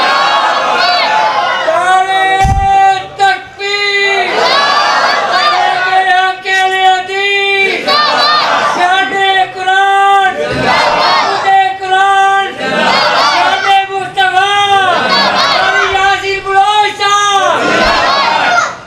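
A large crowd at a religious gathering shouts slogans in loud, rhythmic, chant-like bursts that repeat in waves and fill the space, close and dominant throughout.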